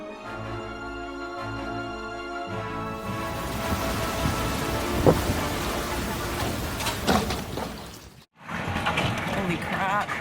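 A thunderstorm with heavy rain pours over Moscow as a dense, constant roar of rainfall, with scattered sharper impacts and a brief drop in sound near the end before the downpour resumes.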